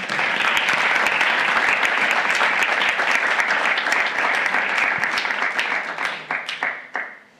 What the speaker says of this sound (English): A round of applause for the new Chief Justice.